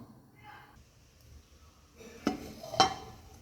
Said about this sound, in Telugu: ఇప్పుడు మనం మూత అయితే పెట్టుకొని ఈ అన్నాన్ని ఉడికించుకుందాం.